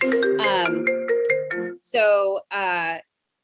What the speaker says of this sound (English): I'm getting a phone call from LRTC now.